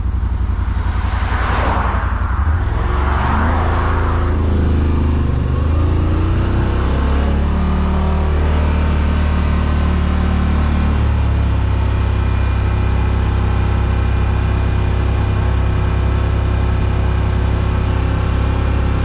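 A Can-Am Rmax 1000 side-by-side with a tune and exhaust tip accelerates from a roll in sport mode on blacktop, its engine climbing in pitch at first, then settling into a loud, sustained, steady drone for a long stretch.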